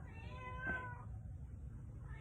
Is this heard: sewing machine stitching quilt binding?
no